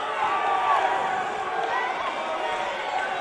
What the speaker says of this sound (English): This crowd is on fire here at season premiere, Kirby.